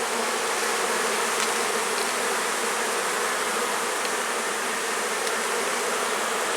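Honey bees buzz in a dense, continuous swarm hum close by during a hive inspection, steady and loud with no pauses.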